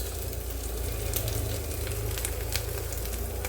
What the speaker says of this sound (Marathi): आता थोडीशी तेल सुटेपर्यंत परतून घेते